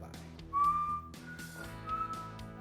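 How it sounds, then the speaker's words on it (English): A person whistles a short tune alone, clear pitched notes rising and holding over a faint background, two phrases across a few seconds. "if you're gonna do it, at least know how to whistle"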